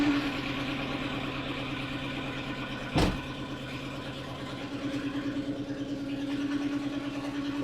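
Renault Twingo engine running after a coolant refill and bleed, a steady low idle hum with one sharp knock about midway, a slight rise in revs near the end, no voices.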